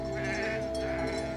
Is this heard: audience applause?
no